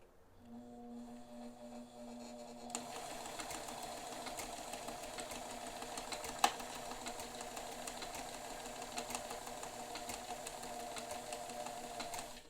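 A Bernina 530 Record sewing machine works a blind stitch. A soft hum comes first, then a steady, fast mechanical chatter runs close and even throughout, broken by one sharp click near the middle.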